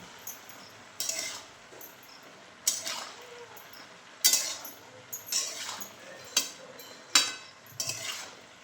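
A spoon stirs salt and black chili powder into pumpkin in a pot, giving irregular clinks and scrapes against the metal every second or so over a soft background sizzle, with no talking.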